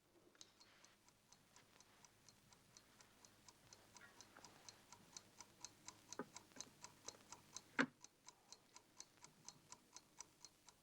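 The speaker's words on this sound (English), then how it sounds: "Inside the gollywog's a time bomb." A time bomb ticks in a steady, quiet rhythm of sharp even clicks, with one louder thud partway through before the ticking carries on unchanged.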